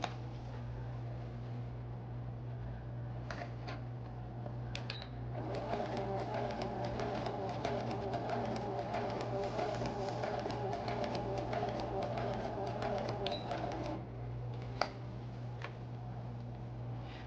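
A domestic sewing machine stitching along a cushion seam for a reupholstered furniture cushion, a steady mechanical whir running continuously for most of the stretch, with a constant low hum and a few light ticks near and alone.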